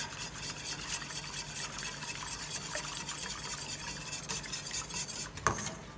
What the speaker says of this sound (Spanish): Y hay que estarlo moviendo todo.